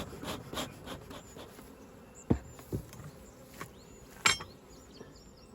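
Honeybees buzz continuously close by around a hive, with a few louder individual bees zipping past near the ear.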